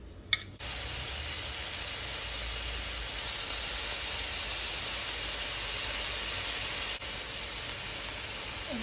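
Bacon sizzles steadily in a cooking pot, a loud, even hiss that carries on without pause for several seconds after a brief quieter start.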